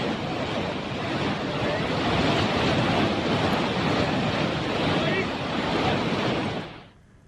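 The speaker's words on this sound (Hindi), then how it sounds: "पानी का तेज बहाव देखिए, यहां पर उफान पर था ये नाला" Floodwater rushes hard through an overflowing drain after heavy rain in Dehradun, a loud, continuous broadband roar that stays steady for several seconds and then cuts off abruptly.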